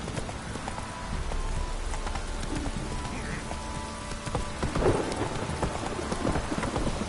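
Hooves of the horse Roach galloping through rain in The Witcher 3, a steady clopping rhythm under constant rainfall, with a louder moment midway.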